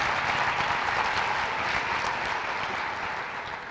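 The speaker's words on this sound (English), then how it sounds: "let's give a round of applause to all of these community partners" An awards ceremony audience claps for community partners, a dense, even wash of applause from a large crowd that tapers slightly toward the end.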